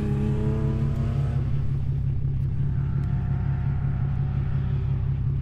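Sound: V6 twin-turbo truck engine

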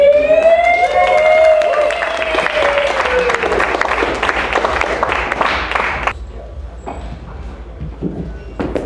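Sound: audience applause

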